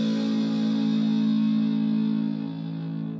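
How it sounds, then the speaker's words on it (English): An electric guitar's low string tuned down to A in drop A tuning rings out as one heavily distorted sustained note that slowly fades, played alone. "So that sounds like this. 6 is A."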